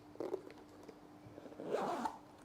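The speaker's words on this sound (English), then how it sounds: "and the zippers have always worked." Zipper on tall Pleaser platform high heel boots being pulled, a quiet short rasp followed by a longer, louder zipping run, close and otherwise fairly quiet, without speech.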